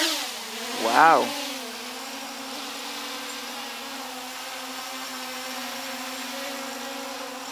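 Walkera Aibao drone motors throttle up with a rising whine that peaks briefly near the start, then settle into a steady, close buzzing hum that holds to the end; a voice exclaims once.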